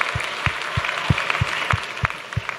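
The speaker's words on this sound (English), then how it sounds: "Let's give him a big round of applause as he heads off." An audience at a school talent show applauds a departing performer, a dense wash of clapping with soft, regular low thumps running steadily underneath throughout.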